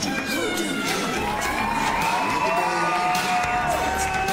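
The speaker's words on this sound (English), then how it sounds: "Can I get a warm round of applause for our stage kittens?" Theatre audience at a curtain call cheering, whooping and applauding the stage kittens, a continuous lively crowd roar with scattered high shouts throughout.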